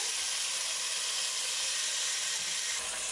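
Chopped onion sizzling in hot oil in a saucepan, a steady loud hiss that holds unbroken throughout.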